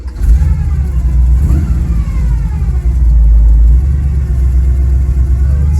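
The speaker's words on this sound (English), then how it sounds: "And remember, the timing gear whine is kind of annoying." A 1968 Pontiac Firebird engine runs with a loud, steady rumble and a thin timing gear whine above it, swelling slightly as it revs, heard from close by and without talk.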